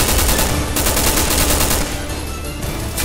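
Rapid, dense gunfire from Resident Evil 6 hammers away close and loud in steady bursts, easing slightly in the last second, with no voices over it.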